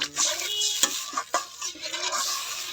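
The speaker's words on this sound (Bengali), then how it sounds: "মশলাটা কতটা সুন্দর কষাই নিচ্ছে ভালো করে" Spice paste for a thin boal fish curry being stirred and fried in a pan, a steady sizzle with scraping stir strokes and a few sharper knocks, close and alone without talk.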